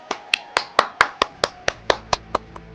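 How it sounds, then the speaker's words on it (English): A crowd claps in a crisp, regular rhythm of about a dozen sharp, evenly spaced claps, fairly close and loud, with no voices over it. "Okay, everyone stop clapping."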